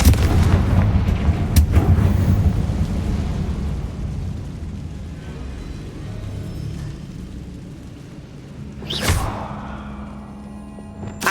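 Confringo blasting spell explosions in the Hogwarts Legacy video game: a loud booming blast opens, followed by rumbling decay and a second sharp burst near the end, with no talk.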